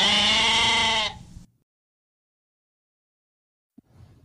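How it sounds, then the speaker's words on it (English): A goat on a farm lets out one long, loud, wavering bleat close by. Silence follows, then a faint brief rustle. "I hear the goats say, ma, ma."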